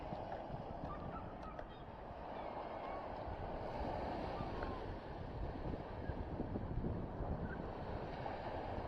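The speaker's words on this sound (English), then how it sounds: "I love listening to the waves as they crash." Sea waves wash steadily onto the shore along Dover promenade, a continuous broadband roar with wind buffeting the microphone and no distinct breaks.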